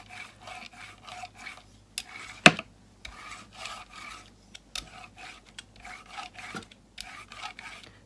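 A paint roller rolls over a gel printing plate in repeated short strokes, giving a soft, sticky rasp in an even rhythm with a few sharp knocks between passes.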